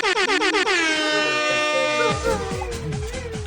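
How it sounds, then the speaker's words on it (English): A loud blaring air horn sounds in long sustained blasts, bending down in pitch at the end, with a wobbling tone trailing underneath. "I need balloon streamers and an air horn right now."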